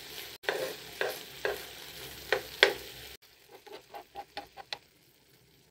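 Potato pieces sizzle in oil in a pan, with intermittent scrapes and clatters as they are spread out and moved about. The frying is fairly quiet and no one speaks.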